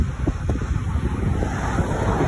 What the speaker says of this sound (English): We can't swim because the waves are so big.